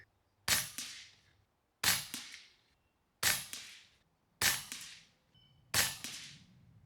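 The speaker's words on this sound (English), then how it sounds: "We're gonna take 5 shots at the target." An air rifle fires five pellets at a target during a muskrat hunting outing, five crisp evenly spaced snaps about a second and a half apart, each with a quick echoing tail, close and loud with no talk.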